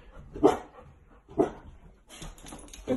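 A puppy at home gives three sharp, high yips spaced about a second apart, close and clear against a quiet room.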